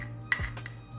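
A metal spoon clinks against a container as salt is spooned into homemade winter seasoning: one sharp, close clink, then a fainter tap over a low steady hum.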